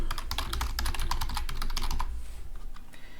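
Fast, steady keystrokes on a computer keyboard while a rule title is entered in Office 365, close and loud, then slowing to a few scattered taps over a low background hum.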